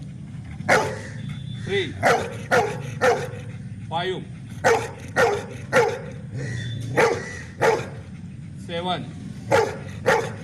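A dog barks repeatedly in short, evenly spaced yaps and yips, loud and near, with a whining note between some barks, while a person speaks over them.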